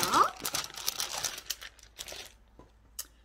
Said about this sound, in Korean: 선생님이 마크라메 줄을 미리 재단을 해서 넣어놨는데요. 한번 뜯어볼게요.